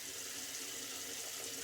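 Warm tap water runs steadily as a head is wetted before shaving, a close, even splashing hiss with no voices.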